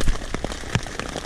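Rain falling outside a yurt on an off-grid homestead, a soft steady patter with a few closer drop impacts, fairly quiet and continuous with no talk.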